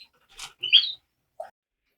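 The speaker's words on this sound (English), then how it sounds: "you'll see that there are birds now in the aviary" Birds in a home bird room aviary give a few sharp, close chirps and tweets in quick short bursts, separated by silence, with no talk.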